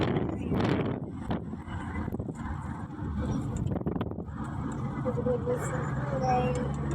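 Outdoor street traffic makes a continuous rumbling, windy wash of noise, with people talking over it throughout.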